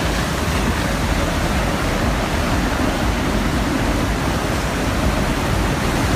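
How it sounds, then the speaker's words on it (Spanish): Steady roar of a waterfall in the Andean Araucanía of Chile, a dense, even rush of falling water filling the scene close and loud with no pauses and no voices. "oh, llegamos a la cascada,"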